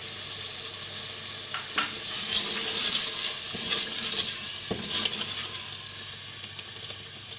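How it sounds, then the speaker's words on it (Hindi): Mutton frying with yogurt in a pan for a bottle gourd curry, a steady close sizzle with intermittent stirring scrapes and clinks, loud and continuous with no talk. "गोश्त भून रही हूँ मैं।"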